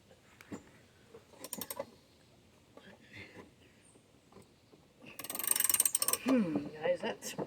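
A socket wrench ratchets on a tight Lawn-Boy mower blade in short bursts of clicking, with a louder sustained run of fast ratcheting near the end, close by and with a voice in the gaps.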